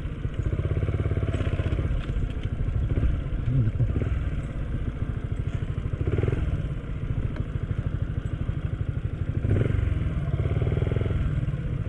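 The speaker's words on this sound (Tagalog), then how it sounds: "Pero obviously may dumadaan dito mga motor." A motorcycle engine rumbling steadily on a dirt road through a forest in the Sierra Madre, a continuous close, loud chugging with clattering, swelling slightly a few times as it moves.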